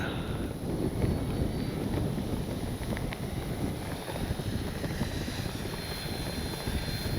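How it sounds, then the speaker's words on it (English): Strong wind roars across an RC plane flying field, a constant broadband rush buffeting the microphone for the whole stretch with no break. "It is windy"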